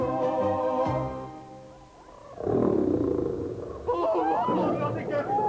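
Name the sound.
lion roaring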